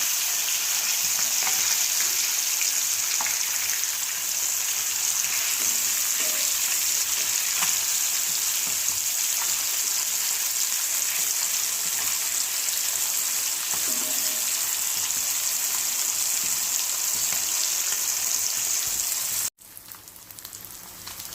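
Carp pieces fry in oil in a pan, a steady bright hissing sizzle with scattered pops and crackles held close for about twenty seconds before it abruptly cuts off near the end.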